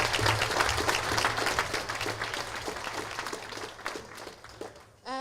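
Loud, dense applause for a team at a company event, sustained through the whole stretch and thinning slightly toward the end before a brief voice cuts in.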